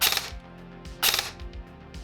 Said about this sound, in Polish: trzystrzałowy burst